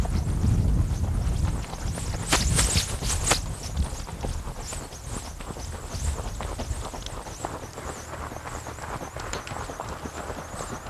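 Tennessee Walking Horses gaiting produce soft, rapid hoofbeats in an even rhythm, with a few sharper clops early on and a steady background hum throughout.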